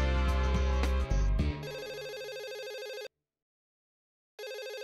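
Incoming call ringing on a phone set to speaker, an electronic ringtone chiming in repeated bursts with a short pause between, after some louder background sound at the start.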